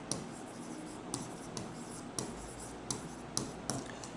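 A pen scratches across paper in short strokes, a series of soft, close scribbles with sharp little taps between them, during a quiet pause in a maths lesson.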